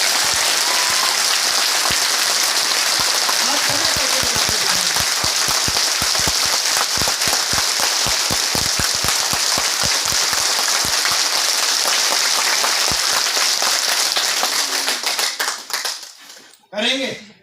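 Audience clapping fills a business seminar hall for about fifteen seconds, dense and steady, with a voice heard over it before it breaks off near the end.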